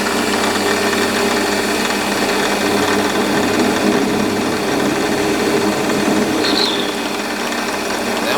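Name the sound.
metal lathe centering a cast pulley face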